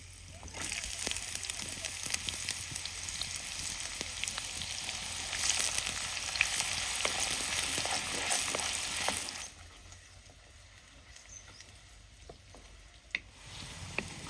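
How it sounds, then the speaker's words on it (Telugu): Small onions sizzle and fry in masala for a paneer curry tempering, a steady broadband crackle with some stirring that runs loud for about nine seconds, then drops to a quieter simmer with a sharp clink near the end. "ఆనియన్స్ అయితే మంచిగా ఇవి కూడా ఫ్రై అయిపోయినాయి"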